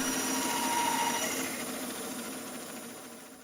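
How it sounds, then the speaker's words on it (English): A bandsaw ripping a wooden workpiece in half, a continuous buzzing, whining cut that holds steady and then slowly fades in loudness, with no voices over it. "I can rip this in half on the bandsaw and cut it to depth"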